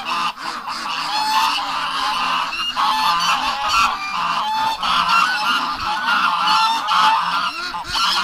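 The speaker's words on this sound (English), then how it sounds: "Okay, the geese are coming." Geese honk loudly and continuously at close range on a frozen winter day, a dense overlapping chorus of nasal calls with no pause.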